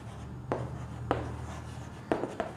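Chalk or marker writing on a board during a physics lecture, a few short scratchy strokes spaced apart over a steady low room hum.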